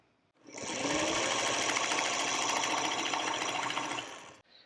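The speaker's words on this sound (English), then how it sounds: "take it to the sewing machine, and you'll start stitching right here in this corner" A sewing machine runs a steady stitch along a quilt block seam at a quarter-inch seam allowance, a fast, even whirring that starts abruptly, holds close and loud for about three seconds, then stops.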